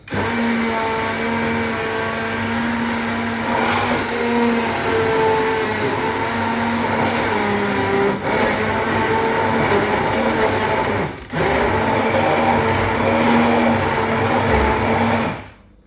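A blender whirs steadily while mixing a smoothie, loud and close, running almost continuously with a brief stop before resuming and then cutting off at the end.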